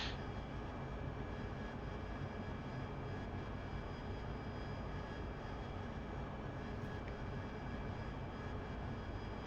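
AV-8B Harrier jet engine in a flight simulator, a continuous even roar with a faint high whine, steady in level and unbroken for the whole stretch.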